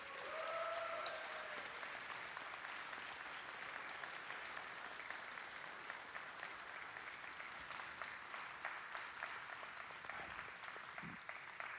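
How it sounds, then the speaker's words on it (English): Steady, sustained audience applause fills a large hall after the Magic: The Gathering Pro Tour Player of the Year award is announced, a dense wash of clapping heard from a distance with no voices on top. "a lot of applause in the building"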